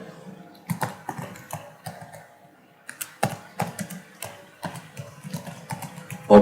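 Code typed on a computer keyboard during a C++ lesson: bursts of crisp key clicks in irregular clusters with short pauses, close and fairly quiet, with no talking.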